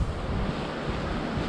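Wind blowing outdoors in a rural countryside setting, a steady broadband roar buffeting the microphone for the whole stretch, with no one speaking.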